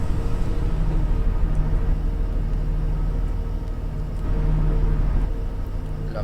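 Steady low diesel rumble of a simulated Enviro400 MMC double-deck bus in OMSI 2, idling and pulling away with mild revving, constant and close throughout.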